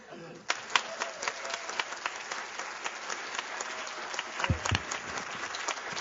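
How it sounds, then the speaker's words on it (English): Audience applause at a panel discussion on pharmaceutical industry influence: a steady, moderately distant wash of many hands clapping that continues throughout, with a few sharper individual claps standing out. "we'll see which side gets the most applause"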